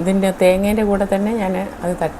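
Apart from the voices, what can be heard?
No everyday noise stands out behind the speech.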